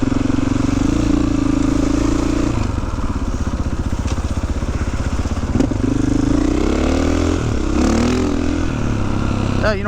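A KTM EXC 500 dirt bike engine idles with a loud, close, lumpy thump, then its pitch rises and falls as it is revved and moves off.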